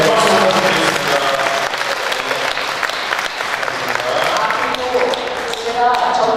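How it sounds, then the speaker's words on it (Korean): Sustained audience applause at a Korean political campaign event for a gubernatorial preliminary candidate, dense and loud clapping from a crowd welcoming city council members, with murmured voices mixed in throughout. "네, 박수 부탁드리겠습니다."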